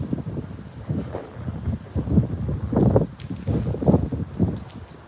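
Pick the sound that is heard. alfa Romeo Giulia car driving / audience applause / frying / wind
wind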